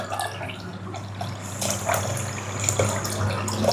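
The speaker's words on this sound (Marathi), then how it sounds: "तर याच्यात आहे ना पाणी ॲड करते." Water poured into a dish while cooking in a home kitchen, a steady trickling splash running throughout at close range with faint clinks, no talking.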